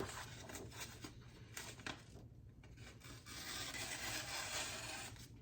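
Knife blades rub on a sharpener to polish them, giving soft repeated raspy strokes, fairly faint and close, with a steadier scraping stretch toward the end.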